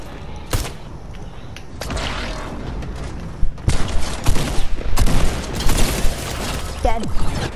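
Video game gunfire crackles in scattered shots and rapid bursts, growing busier toward the end, with players talking over it.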